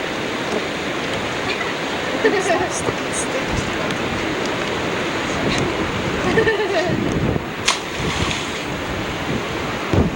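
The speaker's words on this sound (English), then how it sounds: "So wind's blowing this way." Strong wind gusts across the microphone outdoors during fly fishing, a loud, continuous broadband roar like surf that swells and dips throughout, with occasional faint voices in the background.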